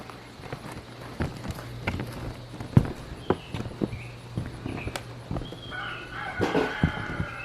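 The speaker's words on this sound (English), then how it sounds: "The rooster crowing in the middle of the day." A rooster crows in the middle of the day near an RV being prepared for a new roof, the crow rising late in the clip over a background of scattered knocks and taps.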